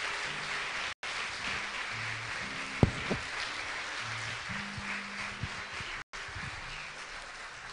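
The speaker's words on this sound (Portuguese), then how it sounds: "Aplauda o Senhor Jesus" A church congregation claps together in a steady, moderately loud burst while sustained keyboard notes play underneath, with a few sharper knocks partway through.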